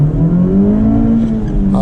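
A 2024 Honda Civic Type R accelerates, its engine note rising steadily in pitch through a gear, loud and close, with a brief shift-like break near the end.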